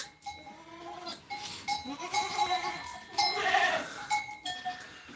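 Several goats on a farm bleat over one another, close and overlapping in short wavering calls, with a bell clinking faintly among them.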